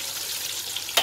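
Mackerel pieces coated with curry powder fry in a pan with a brief, bright, steady hiss and crackle, ending in a sharper pop.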